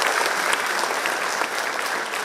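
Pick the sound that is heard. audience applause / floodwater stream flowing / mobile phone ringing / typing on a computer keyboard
audience applause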